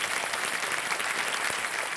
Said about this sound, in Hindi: तालियों के साथ आपका स्वागत करते हैं।